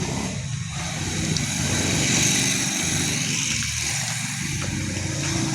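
A motorcycle engine drones steadily at moderate loudness for several seconds, close by and with no talking over it.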